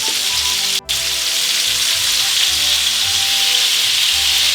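Meatballs brown in a frying pan with a steady, close sizzle and hiss throughout, with a brief sharp click near the start.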